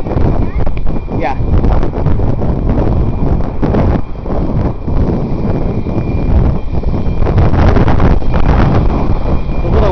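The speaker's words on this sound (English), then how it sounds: "Windy, isn't it?" Strong, constant wind buffets the microphone outdoors at a park, a dense low roar that runs the whole time with small gusty swells.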